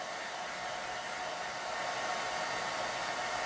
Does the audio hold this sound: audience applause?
no